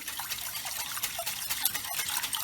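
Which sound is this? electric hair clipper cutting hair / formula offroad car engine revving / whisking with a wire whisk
whisking with a wire whisk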